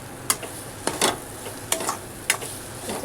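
A spoon works through vegetable stuffing in a pan, giving a few scattered scraping strokes over a soft background hiss.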